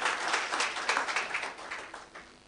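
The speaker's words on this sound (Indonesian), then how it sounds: "Tepuk tangan yang meriah buat Tuhan kita" Congregation applauding in a church service, a dense wash of many hands clapping that holds steady and then thins and fades over a couple of seconds.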